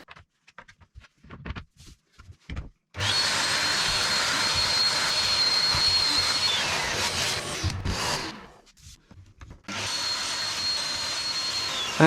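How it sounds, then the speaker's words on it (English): Shop vacuum sucking router debris and MDF bits out of the holes of an MFT-style workbench top: a loud steady whoosh that runs about five seconds, cuts out briefly, then returns, after a few scattered clicks and knocks. "there's inevitably a little bit of debris left in the holes to be vacked out"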